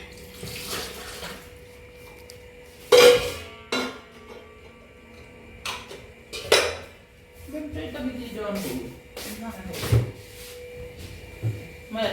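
Dishes and utensils handled in running water at a home sink, with clinks and clatters scattered among splashing and trickling, fairly close, while people talk intermittently.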